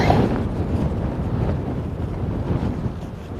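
Strong, nasty wind buffeting a cyclist's microphone during a cross-country ride near mountains, a continuous loud roaring rumble with gusty swells and no voices.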